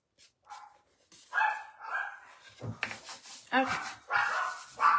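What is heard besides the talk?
dogs barking outside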